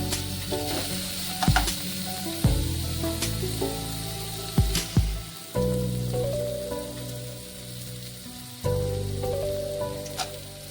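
Chopped onion and green chilli frying in oil, a bright continuous sizzle broken by occasional clacking stirs of a spatula against the pan, close up with no talking.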